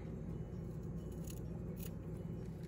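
Scissors cut through fabric handles, faint repeated snipping and scraping over a steady low background hum, close but quiet, with no talking.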